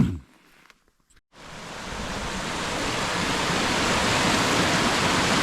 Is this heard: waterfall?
yes